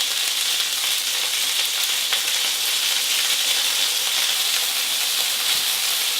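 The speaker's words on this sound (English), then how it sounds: "So I'm going to brown this, and then I will show you what it looks like when it's completely browned." Beef browning in a hot pan for a Moroccan stew, giving a dense, continuous loud sizzle and hiss close up, unbroken for the whole stretch with no voices.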